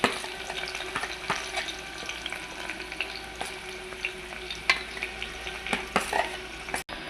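Onions sizzle in a pan for drumstick tomato curry, a steady frying hiss broken by scattered clicks and scrapes of stirring, with a sharper clack near the end, no talking.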